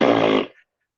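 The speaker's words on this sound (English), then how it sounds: "I've been putting on a 24/7 loop of fart noises" Fart noise recording playing on a loop from an iPad, a single loud, buzzy blast lasting under half a second and then cutting off into silence.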